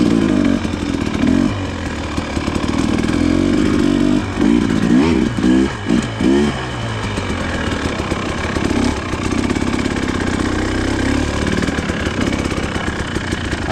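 An enduro motorcycle engine drones loudly and close as it works down over a ditch, with a burst of revving and shifting pitch partway through, then a steady run again, with no talk.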